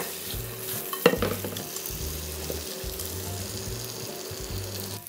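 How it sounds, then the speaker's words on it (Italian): Pan-fried potatoes and porcini mushrooms being reheated with rosemary and garlic, a low soft sizzle under a faint hum, with a few stirring clatters and scrapes, one sharper knock near the start. "Riscaldiamo le patate precedentemente rosolate e i porcini che ha preparato prima Gianluca con rosmarino e un po' di profumo di aglio"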